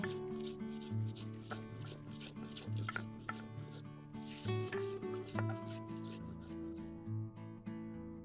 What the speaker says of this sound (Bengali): প্রথমে আমি কয়েকটা শুকনো লঙ্কা বেটে নেব